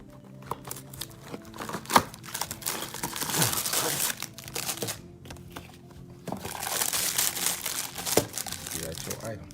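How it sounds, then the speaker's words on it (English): Cardboard box and plastic packaging for a vacuum cleaner attachment are handled and opened up close, giving repeated crinkling and crumpling with occasional sharper rustles in two busy bursts. A voice talks over part of it. "So this is the box and packaging."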